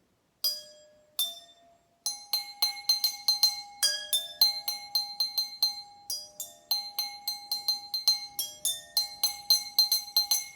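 Tuned kitchen water glasses are tapped to play a melody, bright ringing clinks that start with a few spaced notes and then run in quick rhythmic bursts, close and clear with no talking.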